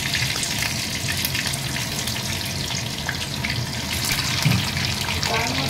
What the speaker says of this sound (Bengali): গরম হয়ে গেছে, তেল গরম হয়ে গেছে। এবার আমি ডিমগুলো দিয়ে দিচ্ছি